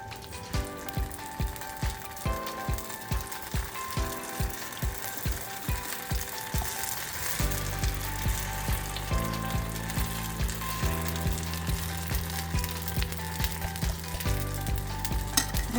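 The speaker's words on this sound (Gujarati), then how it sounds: "હવે આપણે બેટર નાખીએ અંદર." Moong dal handvo batter hits a hot tempering of mustard seeds, curry leaves and chilli, giving a loud, steady sizzle and frying hiss that swells as it spreads, with stirring and clinks early on.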